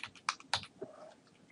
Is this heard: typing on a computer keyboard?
yes